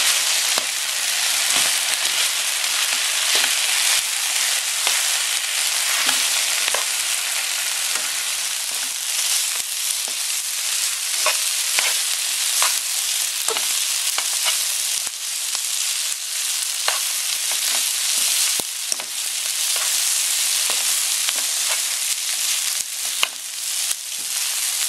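Yakisoba noodles sizzling steadily as they are stir-fried in a hot pan, with frequent short scrapes and clacks from the stirring running through a continuous, loud fry, no voices.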